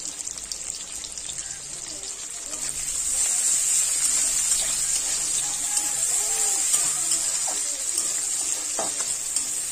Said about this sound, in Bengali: পেঁয়াজটাকে আমি কিছুক্ষণ ভেজে নেব